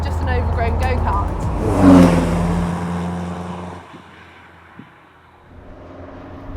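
A Caterham Super Seven sports car engine revs up to a loud, brief peak, then drops to a lower drone and fades as the car drives away, heard up close.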